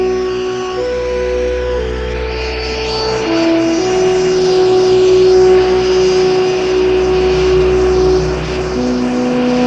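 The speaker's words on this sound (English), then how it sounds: "Boeing 757, proceed on the runway." Boeing 757 jet airliner on the runway, a steady loud engine drone with sustained tonal whine and shifting pitch, continuous throughout with no talk.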